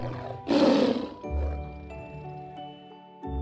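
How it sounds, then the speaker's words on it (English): A tiger lets out one loud, rough roar lasting about half a second, then fades out under soft background music in a children's alphabet lesson. "T is for tiger."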